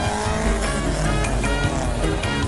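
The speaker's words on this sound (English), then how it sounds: "Look, here are some more good cars." Cars at a nighttime street racing event roar past in a loud, continuous blur of engine noise and tire squeal, close by and dense with overlapping vehicles.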